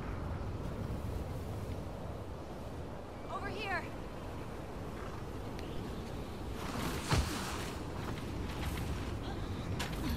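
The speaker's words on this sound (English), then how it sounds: "It's pretty windy." Steady gusting wind buffets a high ledge in The Last of Us Part II, a broad continuous rush that persists throughout, with brief rustles and a sharp knock partway through, and a voice talking over it.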